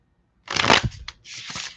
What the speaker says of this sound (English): I'm shuffling so well today.